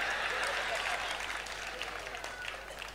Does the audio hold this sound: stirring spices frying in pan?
no